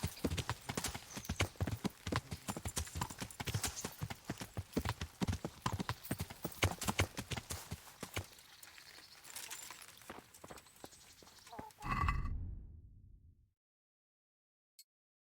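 Horse hooves clip-clopping in the video game Kingdom Come: Deliverance, a steady, fairly close rhythmic trot of sharp hoof strikes that slows and fades, followed by a brief swell and then near silence.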